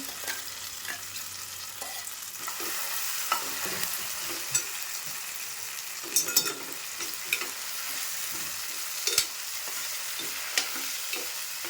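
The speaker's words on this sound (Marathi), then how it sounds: "वाटण व्यवस्थित असं परतून घ्यायचं" Spice paste sautéing in oil with onion in a pan for a spicy egg masala gravy, a soft steady sizzle with repeated spatula stirs and scrapes scattered throughout.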